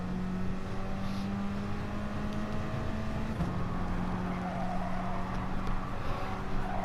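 A racing car engine drones steadily in a driving video game on the Dragon Trail Gardens II circuit, with its pitch holding fairly even and shifting once partway through.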